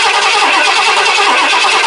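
Engine of a 1979 Ford F150 pickup cranking and straining to start, a loud, dense, steady churning roar that fills the whole stretch without letting up, with no voices.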